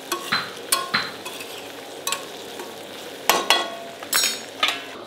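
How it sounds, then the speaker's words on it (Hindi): Bottle gourd curry frying in a pan after tempering, with a steady sizzle broken by repeated scraping stirs of a spoon against the pan. "यहाँ पर मैं लौकी की सब्जी फ्राई कर रही हूँ, जो तड़का लगा दिया है"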